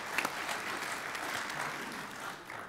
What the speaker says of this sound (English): can we just give everybody a round of applause?